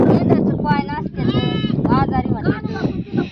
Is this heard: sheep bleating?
yes